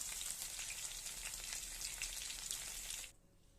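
Pointed gourd fries in oil in a kadai, a dense close sizzle with a crackling, rain-like spatter that holds steady for about three seconds and then drops away almost to quiet.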